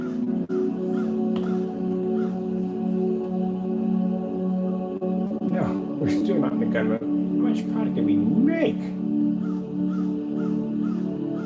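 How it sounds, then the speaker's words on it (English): A real crow caws loudly and repeatedly in the background, several harsh calls grouped near the middle, under a voice and a steady tonal hum. "That's an actual crow going off in the background."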